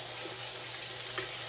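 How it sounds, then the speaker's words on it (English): Green beans sauté in a pan with a steady, soft sizzle that holds even throughout, plus a small clink near the end. "So we're gonna let that saute, y'all."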